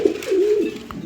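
A pigeon coos close by, a single low, smooth, throaty call with a gentle rise and fall, heard alone over faint background noise.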